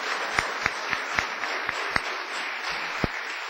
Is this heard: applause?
yes